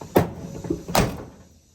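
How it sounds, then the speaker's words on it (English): A door on a 1987 Chevrolet 4X4 Squarebody pickup truck is shut twice, giving two solid, close thunks about a second apart, each fading quickly into quiet. "These doors shut pretty good."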